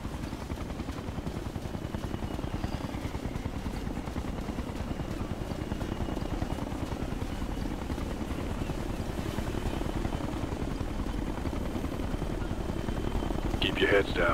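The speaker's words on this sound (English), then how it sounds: "Aquele ali é um helicóptero inimigo." An enemy helicopter in the Ghost Recon Future Soldier video game churns with a steady rotor thump throughout, while a voice talks over it.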